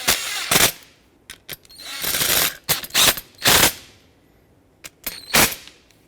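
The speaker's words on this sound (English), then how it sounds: "And now tighten this up as well." Power tool tightening bolts on a 2009-2014 Ford F-150 rear window regulator, several short loud rattling impact bursts of varying length separated by pauses.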